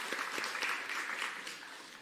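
A church congregation at a Sunday service claps together in a brief burst of applause that sounds slightly distant and fades away.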